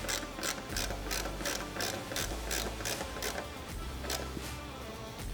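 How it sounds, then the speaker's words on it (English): A 3mm Allen wrench and Allen socket tighten a bolt holding an aluminum roof on a CFMOTO UFORCE 1000 XL, giving a steady run of rapid ratchet clicks in regular bursts, close and fairly quiet, with no talking. "So I just have a 3mm Allen wrench on the bottom and a 3mm socket"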